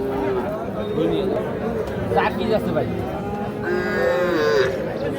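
Young bull calves mooing at a busy rural cattle market, several loud bellows rising over constant crowd chatter and nearby voices.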